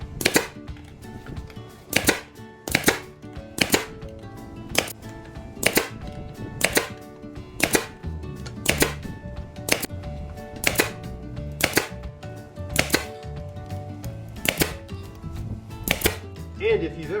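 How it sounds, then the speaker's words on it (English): A Harbor Freight Central Pneumatic brad nailer fires repeatedly into wood during a rebar shelf build, each sharp close snap coming at a steady, fairly quick pace, with a few short pauses between bursts. "Use my Harbor Freight Central Pneumatic brad nailer"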